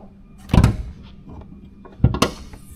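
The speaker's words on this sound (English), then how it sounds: "We'll go ahead and pop the hood." The hood of an armored 2022 Yukon XL Denali pops open: two sharp, close mechanical clunks of the latch and release about a second and a half apart, with a quiet pause between.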